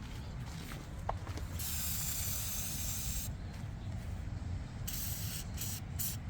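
An oil spray can hisses onto a body mount bolt on a 1997 Chevy K1500 extended cab truck, in two steady, close bursts of about two seconds each with a short pause between them.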